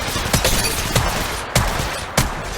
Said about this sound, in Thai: ศัตรูกำลังยิงใส่ฉัน